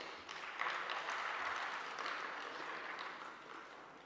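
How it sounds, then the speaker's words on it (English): Audience applause at a spiritual education conference, welcoming a speaker: a steady, moderately loud wash of clapping that swells early and holds evenly for a few seconds before easing slightly. "let us welcome with a big round of applause."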